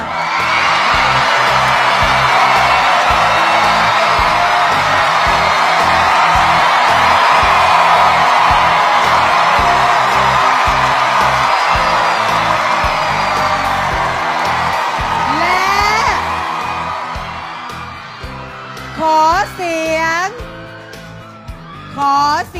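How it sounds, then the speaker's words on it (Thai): A large crowd at a stage contest in a club roars and whoops continuously for Singto, a sustained loud wall of cheering that tapers off near the end into scattered shrill whistles and individual yells. "ขอเสียงคนที่เชียร์สิงโตค่ะ"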